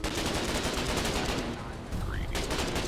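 Gunfire and firebombing rage during an attack on a colonial border base in the war game Foxhole. The crackling, rattling barrage is dense and continuous for about three seconds, with a faint voice mixed into the din.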